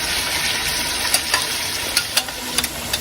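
A ginger, garlic and yogurt paste sizzles steadily in a hot pan, a continuous loud frying hiss broken by a few scraping stirs and spatters in the second half.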